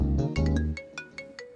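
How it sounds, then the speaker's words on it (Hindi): A mobile phone's melodic ringtone plays as a call comes in: a rapid run of bright, chime-like notes in a quick rhythmic pattern, fairly close, over a low background that fades out partway through. "उसी का फोन आ रहा है"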